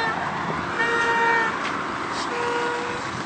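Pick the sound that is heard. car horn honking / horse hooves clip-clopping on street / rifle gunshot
car horn honking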